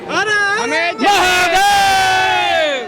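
A large crowd at a political rally in Patna, Bihar, fills the air with loud, sustained shouting and chanting voices that rise in a brief cheer before holding a long, strained cry.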